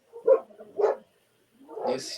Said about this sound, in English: do you hear the dogs barking?